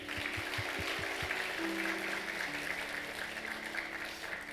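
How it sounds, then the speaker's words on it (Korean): A church congregation at a Sunday worship service claps for a mother, a steady, dense patter of applause filling the room, with a low sustained tone from the sound system or music underneath and no speech over it. "엄마 박수 한번 더 하겠습니다."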